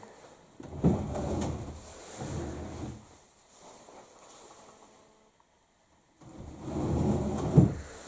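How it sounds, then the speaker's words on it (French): Household drawers slide open in three separate bursts of rumbling friction, each lasting about a second or two, with quiet gaps between them, heard fairly close in a room. "Je suis en train d'ouvrir les tiroirs."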